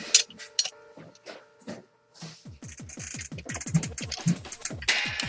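A machine-threaded screw is tightened into a new, tight-fitting MadBull stock on an Echo1 XCR airsoft rifle. Close, repeated short creaking squeaks and scrapes come in a quick series as it turns.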